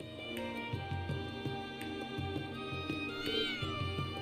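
In the Trails of Cold Steel 3 video game, a cat lets out a short meow over steady background game music with a looping bass pattern.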